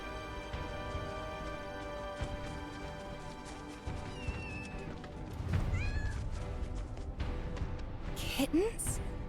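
Kittens meowing in the video game Final Fantasy VII Rebirth, several high mews rising over background game music and ambience, with a couple of brief sharp cries near the end.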